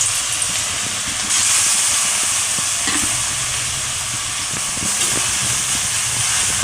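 Grated bottle gourd roasting in hot ghee, a steady close sizzle and hiss with faint scraping as it is stirred in the pan, continuous and fairly loud with no talk.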